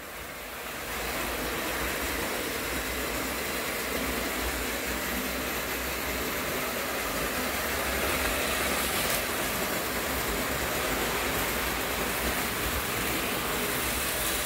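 A model freight train driven by McCoy motors hauls a very long string of cars around a 41-inch radius curve, a steady, close, continuous rumbling roll with no pauses or voices.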